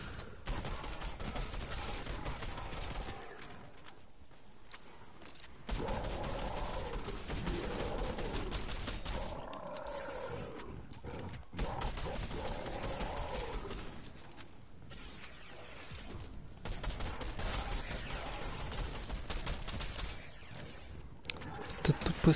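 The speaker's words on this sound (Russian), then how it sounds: "Это тупая стрельба" Gunfire in Fortnite during a horde rush mode: rapid bursts of shooting in dense fusillades, interrupted by short gaps, with players' voices talking intermittently over the action.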